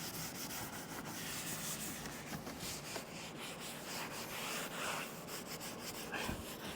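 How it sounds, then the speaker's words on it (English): A scrubbing pad soaked with interior cleaner scrubs a textured leather car seat in an auction Porsche, giving a steady, close, continuous rubbing and scratching sound with no talking. "these fibers of the scrubbing pad here, which are soaked with the cleaner, will get in those textured valleys"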